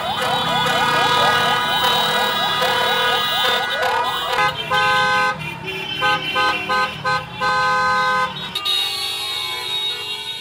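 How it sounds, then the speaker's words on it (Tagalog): Passing vehicles honk horns in support of a street protest over a flood control scam, a loud blaring mix of car horns and siren-like wails, sustained and overlapping, with short toots in the second half. "nakibusina ang mga sasakyang dumaan bilang pakikiisa sa kilos protesta dahilan upang dumagundong sa ingay ang mga kalsada"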